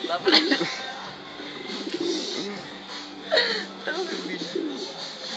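Racing pigeons in a loft coo and call repeatedly in soft, throaty bursts close by, with a person talking over them.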